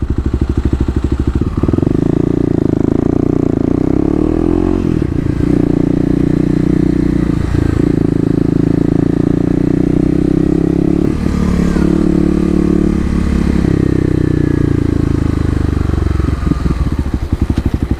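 A Kawasaki KLX250 motorcycle engine drones loudly and steadily while riding on a hot day, its pitch rising and falling through gear changes, with a few dips and clattering bumps along the way.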